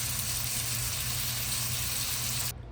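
A steak sizzling as it cooks in a pan, a loud, steady broadband hiss that runs close up for over two seconds before cutting off abruptly.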